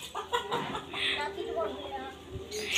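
A live chicken clucks in short, moderately loud bursts at home while people talk over it, the bird's calls scattered through the speech.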